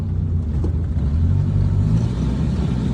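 A 1974 Ford Mustang cruises along with a loud, steady low engine rumble and road noise heard from inside the car, with no voices.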